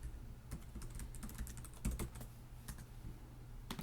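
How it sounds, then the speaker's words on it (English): Fingers tap a website address on a computer keyboard, quick, irregular clicks of keys, quiet and close, over a low background hum. "I'm going to type in a website that I know has a problem so I can show you how it works"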